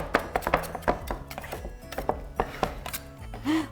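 A pastry scraper chops cold butter into flour for scone dough, making a quick series of sharp, close tapping chops on a hard surface, with an occasional light clatter of kitchenware.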